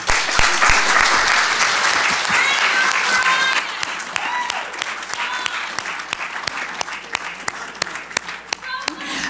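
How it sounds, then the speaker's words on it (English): An audience at a 2024 primaries candidates' forum applauds loudly and steadily, a dense wash of clapping that eases slightly midway, with a few sharp individual claps standing out near the end. "Let's take a moment to applaud all candidates."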